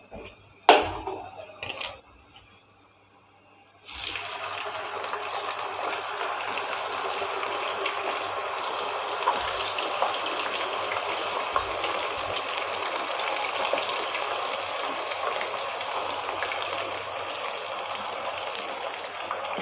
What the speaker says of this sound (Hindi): इसको भी ऐसे फ्राई कर लेते हैं 3-4 मिनट के लिए।